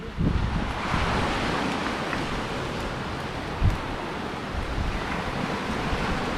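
Steady roar of sea surf washing onto the shore at Gökçetepe Nature Park near Keşan, Edirne, with wind buffeting the microphone throughout and no voices.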